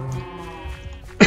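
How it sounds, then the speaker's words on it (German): A sheep in the video game Minecraft gives a wavering, nasal bleat up close, followed by a short sharp noise at the end, with faint game ambience behind. "Aus dem rosa Schaf ein gelbes Schaf, das ist, glaube ich, besser"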